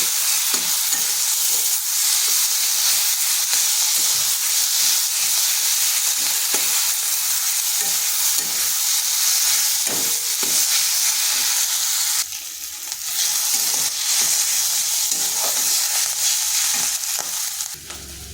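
Flat beans frying in a pan and stirred with a spatula, a loud continuous sizzle with repeated soft scraping strokes throughout, no talking.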